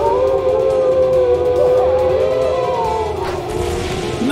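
A wolf howls in the Trails into Reverie video game, a sustained wavering tone rising and falling over several seconds, loud and steady with overlapping howl layers and no talk.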